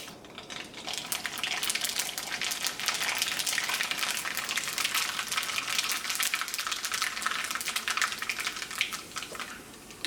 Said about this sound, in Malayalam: ഈ ചൂടായ വെളിച്ചെണ്ണയിലേക്ക് കടുകിട്ട് പൊട്ടിക്കാം.